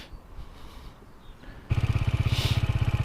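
A motorcycle engine catches after quiet ambience, then settles into a steady, loud, pulsing idle close by.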